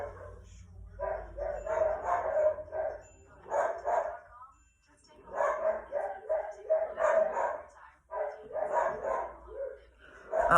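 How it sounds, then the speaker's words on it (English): Several pet dogs bark excitedly indoors in repeated bursts, fairly distant and muffled, with short pauses between volleys and a low background hum. "my dogs apparently are going crazy right now"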